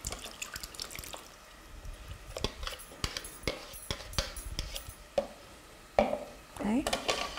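Cooked fruit being sieved to collect its tangy juice in a kitchen, with wet drips, splashes and clinks of a utensil against metal and dishes, irregular and close, with a brief voice in between.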